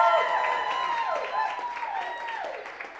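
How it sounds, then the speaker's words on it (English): An audience applauds a guest introduced on a talk show, the steady clapping fairly soft and sustained across the whole moment. "Give a round of applause for Mel, please."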